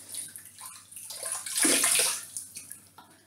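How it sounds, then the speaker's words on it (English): Warm water splashed onto the face by hand makes close, wet sloshing and dripping sounds that build to a fuller splash in the middle, then ease to light trickles, with no talking. "So I've got nice warm water here, so first of all, we're just going to open up the pores."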